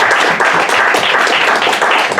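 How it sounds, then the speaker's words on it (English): Dense applause from a crowd at a panel event on corruption and democracy in Angola, steady and fairly loud, with no speech over it. "please join me in giving a round of applause, a very warm one, to Florindo, Kira, and Shaka"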